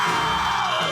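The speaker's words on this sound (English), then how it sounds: "what's all the screaming up there?" A loud, sustained scream or yell holds steadily for about a second with no pause, close and alone.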